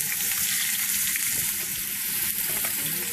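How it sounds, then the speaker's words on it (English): Shrimp fry in a hot pan for shrimp scampi, giving a loud, steady, close sizzle throughout with no voices. "You hear that sizzling?"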